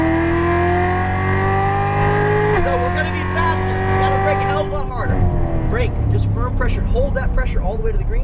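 A Chevrolet Corvette Z06 Stingray engine drones loudly and close on a race track, its pitch climbing under acceleration, dipping at a shift, then continuing to rise with a voice talking over it.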